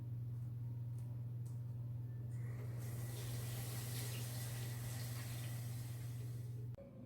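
Running tap water splashes into a sink while hands are washed, a steady moderate rush over a low constant hum, cutting off abruptly near the end, no one speaking.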